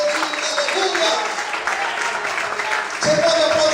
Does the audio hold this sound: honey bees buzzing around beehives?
no